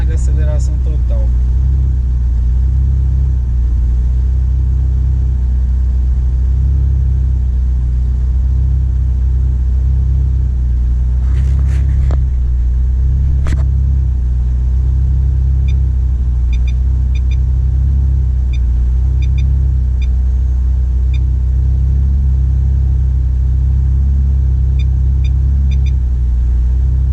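VW Saveiro G3 2.0 turbo engine held at full throttle during tuning, a loud continuous deep rumble and drone lasting the whole stretch with a few brief higher clicks and chirps on top, close by and steady.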